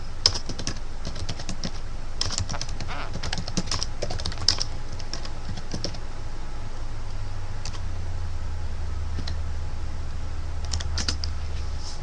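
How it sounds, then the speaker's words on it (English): Steady typing on a computer keyboard, close and continuous, with clustered key clicks in uneven bursts over a low constant hum. "you want to go to Google and type in Google AdWords keyword tool"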